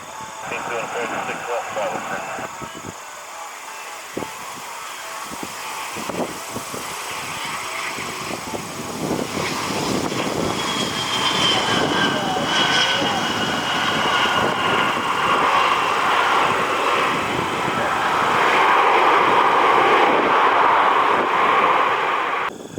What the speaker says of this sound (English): We got another business jet inbound.